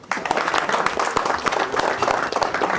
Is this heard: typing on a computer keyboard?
no